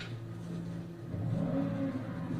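A car engine revs in a medium, throaty drone that swells louder halfway through, heard at a moderate distance in the midst of a tense police encounter at a deadly shooting scene.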